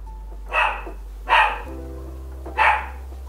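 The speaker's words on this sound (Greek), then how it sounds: "Ακούτε και το σκύλο μου που γαυγίζει." A pet dog barks indoors three times at steady intervals, each bark clear and fairly close, with a low steady hum underneath and no talk.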